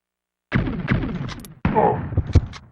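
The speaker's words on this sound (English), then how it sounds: "The dude reaches behind him, fires his shotgun, and kills whatever is behind him." A shotgun fired behind the character in the retro action game Blackthorne: two sharp, loud blasts about a second apart, each followed by a rumbling decay.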